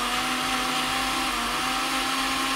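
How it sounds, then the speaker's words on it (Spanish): An electric hand mixer whisks a sponge cake batter right beside the microphone, a loud, steady, unbroken whir filling the whole stretch with no talk over it. "Quizá poner la batidora al lado del micro no ha sido muy buena idea"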